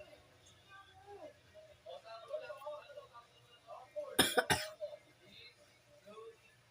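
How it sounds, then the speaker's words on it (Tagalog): A person with a sore throat coughs in a short, harsh burst of two or three close, loud coughs near the middle, set against quieter background talk. "Hirap umubo. Napakasakit sa lalamunan."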